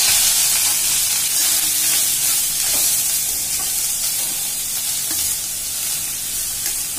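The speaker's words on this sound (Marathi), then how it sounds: "आता तुपामध्ये फ्राय करून घेते, लालसर होईपर्यंत भाजून घ्यायचंय आपल्याला" Milk solids fry in hot ghee with a loud, dense, continuous sizzle and hiss that holds steady throughout, with faint stirring beneath and no talking.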